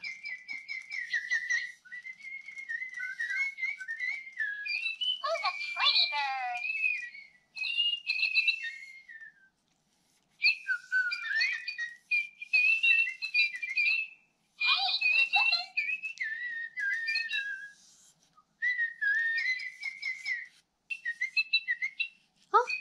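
A Little Live Pets Cocoritos toy bird whistles and chirps in bursts of bright, warbling electronic tweets with short pauses between, loud and close, while people speak around it.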